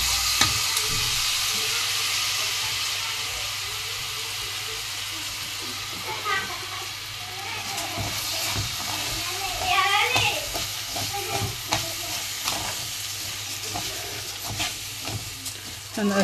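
Vermicelli being fried and stirred in a pot before rice is added, giving a soft sizzle with scraping spoon strokes and light clinks at moderate level.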